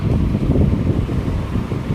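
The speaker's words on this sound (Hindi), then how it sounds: "बाहर बारिश लग गई हुई" Steady rain falls outside a house, a dense, continuous rushing roar with no pauses and no voices.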